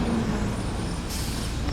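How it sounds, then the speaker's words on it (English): A garbage truck drives past on a neighborhood street, a loud, close, broadband rumble with a brief hiss like an air brake partway through. "as the garbage truck goes by"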